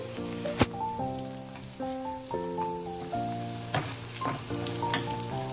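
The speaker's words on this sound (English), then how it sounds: "once the onions are done and everything is fried up properly" Onions frying in a pan for chola dal, giving a steady crackling sizzle with occasional sharp pops, heard under background music.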